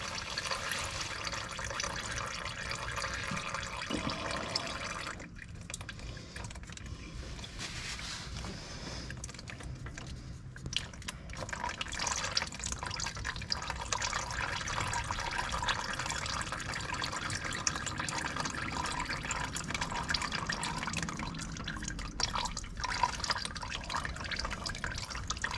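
Motor oil drips and trickles from a 2020 Ford Escape during an oil change, a faint, steady liquid patter into a catch pan, continuous and unbroken for the whole stretch, with no talking.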